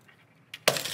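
A tempered glass shower door bursts apart when struck with a hole punch, a faint tap followed by a sudden loud, bright shattering crash that continues as fragments spill.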